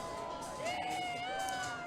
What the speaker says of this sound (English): You can hear a lot of crowd action and chanting